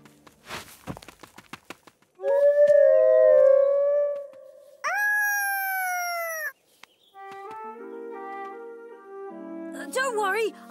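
Cartoon wolves from an animated Jungle Book episode howl in turn, long sustained wavering tones with a few sliding cries, loud and close, preceded by brief clattering sounds.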